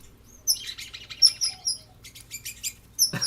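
A cockatiel chirps in a quick series of bright, short tweets and trills, with several bursts spread over a few seconds at close range and brief quiet gaps between calls.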